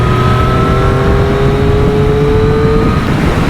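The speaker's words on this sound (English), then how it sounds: "The sound of this engine or exhaust note is a little bit muted, lower RPMs, but the more you open it up" A Triumph Street Triple RS motorcycle engine revs steadily and loudly, its exhaust note holding a smooth, continuous drone with a slowly rising pitch, close and alone with no talking.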